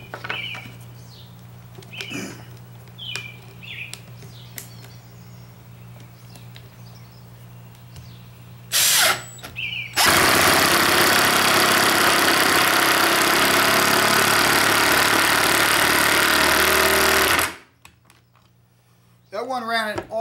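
A Milwaukee impact driver drives a screw with a square drive bit in one loud, sustained burst of rapid hammering that lasts about seven seconds and then cuts off abruptly. Quieter handling noises come before it, and a voice follows.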